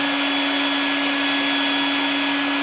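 A small, weak handheld vacuum cleaner runs steadily while transfer case parts are cleaned, a loud constant whine with a steady motor tone and no talking.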